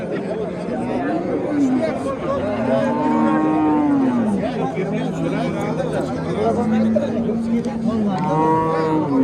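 Several cows moo in long, drawn-out calls, one after another, over a busy crowd chattering in the background at a livestock market in Uzbekistan.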